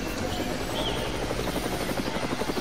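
In the Roblox game Mad City, a helicopter flies with a steady rotor chop and engine whine, holding loud and even throughout with no talking.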